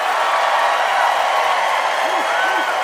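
A studio audience at a comedy debate show claps and cheers to choose a winner, a dense continuous wash of applause with a few whoops rising near the end.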